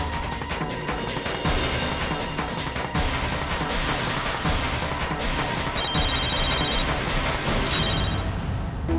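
A mobile phone rings after being called from another handset, its electronic ringtone pulsing through a dense, loud wash of background sound that fills the whole stretch without a break.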